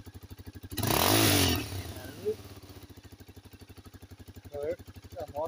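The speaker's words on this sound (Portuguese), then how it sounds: "A moto aí tá com ronco aí, bem bonito." Close by, a motorcycle engine idles with a rhythmic throb, then is revved into a brief loud roar before dropping back to a steady putter while someone talks over it.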